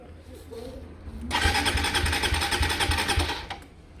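A Suzuki GSX-R125 motorcycle cranks with its spare key and catches, a whirring starter followed by a steady, buzzy mid-pitched idle heard up close, then cut off.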